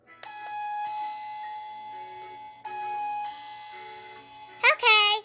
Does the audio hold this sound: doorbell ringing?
yes